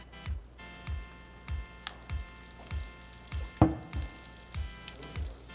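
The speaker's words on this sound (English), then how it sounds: "I'll dump some water on it and see if it still fizzes" Space Dust popping candy crackles and fizzes as water is poured over it: a dense, close sizzling crackle with steady soft low thumps and one sharper pop midway.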